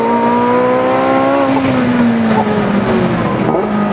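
A Porsche 918 Spyder Weissach at speed on Anglesey Circuit, a loud, continuous engine note with clear tones that rise and then drop through the run, heard from the cabin with no talking.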